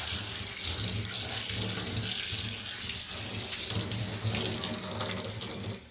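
Water runs steadily from a tap into a bathtub while a brush is rinsed, a close, continuous rushing splash with no pauses.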